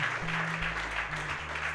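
Congregation at a church service clapping briefly, a soft, steady patter of hands heard at a moderate distance for a couple of seconds over a low hum.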